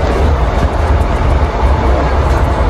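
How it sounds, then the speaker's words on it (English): Passenger train heading to Plymouth heard from inside a carriage, a loud continuous rumble with rhythmic clattering of wheels on the rails. "So, as you can see, we're on the train."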